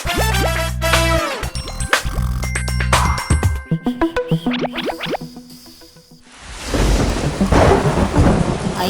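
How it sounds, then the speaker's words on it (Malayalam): Cartoon thunder and rain in a Malayalam animated children's show: bouncy tones and effects give way to a loud thunder crack and then a steady, dense rush of rainfall that fills the end, with no talk. "അയ്യോ അച്ഛാ, മഴ പെയ്യുന്നു, ആ പോപ്പി കൂടെ എടുക്കൂ"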